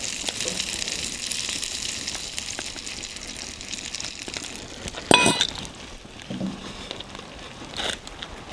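Egg frying in a pan alongside bacon: a steady crackling sizzle throughout, with a brief clatter of clinks partway through and no voices.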